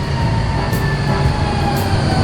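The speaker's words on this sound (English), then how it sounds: "A purple tram." A tram rolls steadily along its rails, a loud continuous rumble with a faint high wheel squeal running throughout, close by and with no voices.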